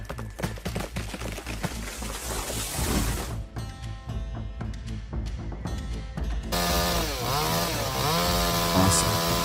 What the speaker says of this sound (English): This is a high-performance chainsaw built for tough jobs